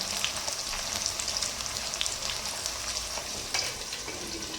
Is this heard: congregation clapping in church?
no